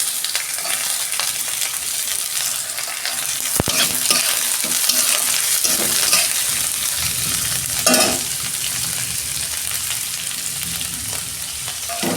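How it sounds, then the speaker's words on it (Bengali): Plenty of chopped onion frying with cardamom in a pan for egg bhujia, a loud continuous sizzle near at hand with repeated scraping and stirring clatter throughout. "পেঁয়াজটা আমি একটু লাল লাল করে ভেজে নেব"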